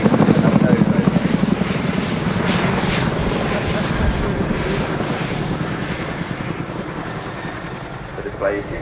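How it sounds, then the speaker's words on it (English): A very large military helicopter roars loud and close during an air display at an airshow, its rotor thump dense and continuous, slowly fading a little as it moves through its manoeuvres. "The display you see today really demonstrates how manoeuvrable this extremely large helicopter is"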